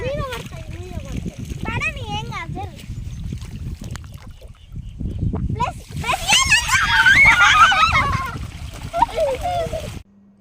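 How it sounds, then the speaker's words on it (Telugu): Children play in water at a village festival, with splashing and sloshing building into a loud burst in the second half, mixed with their shouting voices and adult talk. "ఇక్కడ వాటర్లో ఆడుతున్నారు"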